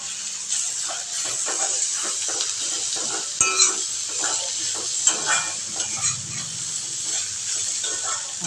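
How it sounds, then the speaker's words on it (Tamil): Bitter gourd being stirred in a hot pan after a sprinkling of cumin and turmeric powders, giving a steady sizzling hiss with soft scraping stirs and a few small clicks throughout. "தூவி விட்டு கிளறிக்கலாம்."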